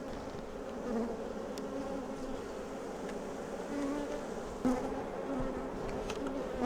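A dense, steady hum of many honeybees buzzing close by at an open hive, individual bees droning past now and then over the continuous swarm.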